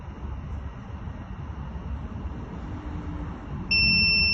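A water level detector's buzzer switches on as the tank fills, giving a steady high-pitched electronic tone over a constant hiss of running water near the end.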